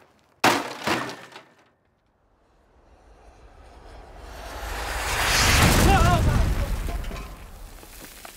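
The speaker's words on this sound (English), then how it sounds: "I got super caught up in smashing this TV" A television being smashed, with a sharp crash of breaking glass at the start, then a swelling roar of shattering and crunching debris that builds over several seconds.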